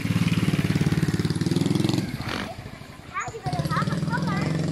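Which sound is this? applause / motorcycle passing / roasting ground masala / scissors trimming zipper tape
motorcycle passing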